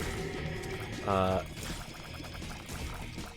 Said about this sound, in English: So that sizzling you're hearing, which is actually starting to get annoying,